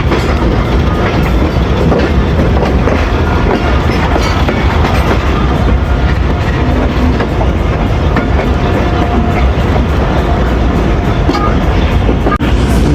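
Karachi Express train rolling steadily along the track, switching from a loop line back to the main line, with a continuous loud rumble and rhythmic clickety-clack of wheels throughout.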